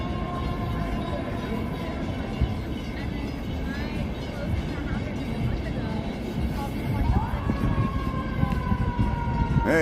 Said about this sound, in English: here's always sirens in the background, always sirens.